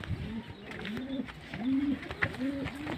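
Pigeons cooing close by in a steady series of soft, low, rounded coos that repeat in a loose rhythm, with a faint murmur of background noise underneath.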